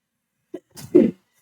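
A single sneeze close to the mic: a short intake of breath, then a sharp explosive burst, followed by silence.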